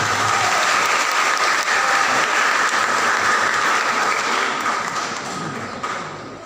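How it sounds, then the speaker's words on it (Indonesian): Applause from a church audience at a youth Easter celebration and 25th anniversary service, steady dense clapping that fills the whole stretch and fades slightly near the end. "Tepuk tangan."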